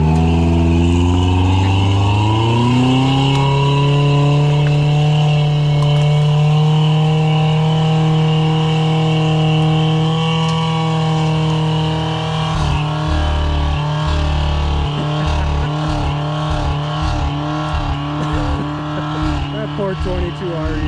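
A 1985 Toyota rock crawler's 22RE engine pulls under throttle up a steep, loose climb, revving up and then holding a loud, steady drone that turns choppy and uneven toward the end.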